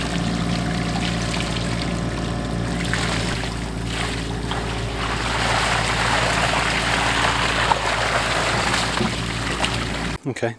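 Water from an old garden pond flows out through a net in a continuous rushing, trickling stream, loud and close, with a voice over it.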